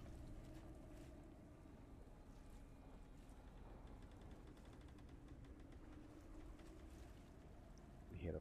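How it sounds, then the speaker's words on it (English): Faint, steady ambient creaking and watery wash of a rowboat being rowed, used as a background sound effect in a tabletop RPG session, continuous and low-level with no voices. "You hear the fucking boat creaking and shit."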